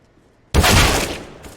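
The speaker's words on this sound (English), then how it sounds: "Woody, nice headshot popping around that corner to drop Stewie" Gunfire in the Counter-Strike video game on the Vertigo map, a sudden loud burst of shots that hits abruptly and then fades, with no voices.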